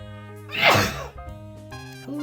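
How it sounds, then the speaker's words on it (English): A single loud sneeze bursts out, a sharp noisy blast lasting under a second, with quiet background hum before and after. "Oh, sorry about the sneeze."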